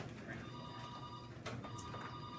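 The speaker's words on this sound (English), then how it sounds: "Yes, I know the phone's ringing." A telephone rings faintly in a high school chemistry classroom, its steady electronic tone sounding under room noise and rustling.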